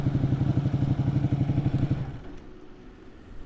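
Motorcycle engine idling up close with a steady rapid low pulsing throb, then cutting off about two seconds in, leaving quiet outdoor background.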